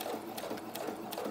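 A sewing machine runs close by at a steady pace, giving a continuous rhythmic whirring stitch sound during junk journal crafting, with no talk over it.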